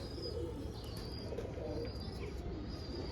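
Pigeon cooing softly at close range, a low burbling call repeating through a short stretch with faint chirps over steady background noise.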